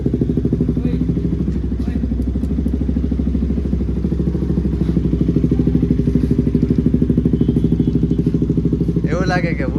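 A Royal Enfield Bullet motorcycle, recently serviced, idles close by with a deep, steady, rhythmic thumping, the engine loud and continuous throughout.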